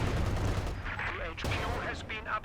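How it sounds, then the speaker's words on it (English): Artillery and machine gun fire from a Company of Heroes 2 battle, a steady low rumble of distant shelling and bursts running throughout, with faint voice-like sounds partly over it. "that's a lot of indirect fire on that machine gun"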